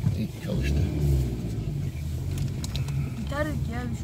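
A car engine idling with a low, steady rumble just after being started, while voices talk over it throughout.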